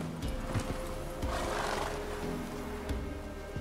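Roach, the horse in Witcher 3: Wild Hunt, gives a loud whinny while hooves clop beneath it, over a short stretch of close, busy sound.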